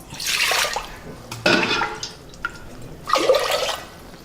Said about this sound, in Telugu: బియ్యం ఉడకడానికి సరిపడా ఎసురు వేసుకుందాం